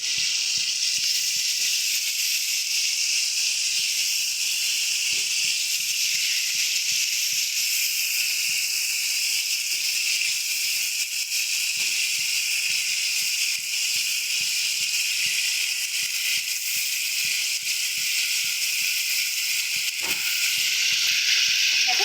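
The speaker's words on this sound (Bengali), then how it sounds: "দিয়ে দেবো একটু হলুদ গুঁড়ো সামান্য একটু পরিমাণে লবণ দিয়ে সুন্দর মতো মাছটাকে আমরা ভেজে নেব" Prawns frying in hot oil with turmeric and salt, a steady, close, continuous sizzle and hiss lasting the whole stretch with small crackles, no talk over it.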